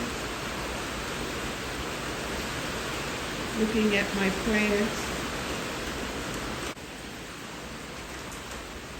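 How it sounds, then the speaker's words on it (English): Steady broadband hiss of rain falling, continuous throughout, with a person speaking briefly in the middle. "listening to the rain,"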